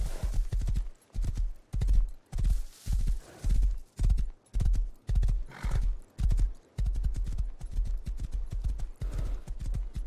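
Video game horse sounds: a string of hoof clip-clops in bursts, with a whinny rising in the middle, loud and close, no talking.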